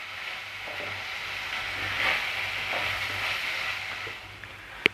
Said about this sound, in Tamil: தக்காளி நல்லா கரைஞ்சி வர வரைக்கும் வதக்கி விட்டுட்டே இருங்க